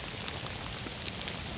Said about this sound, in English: I love the misty kind of look and the gentle sound of the rain falling